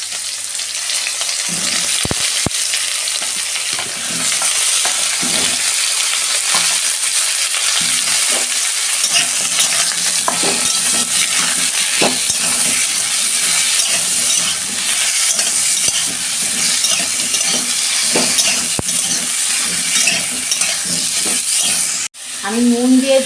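Mango pieces for chutney frying in hot tempered oil, a loud continuous sizzle with occasional stirring scrapes and clinks, close up and steady, with a brief dip near the end.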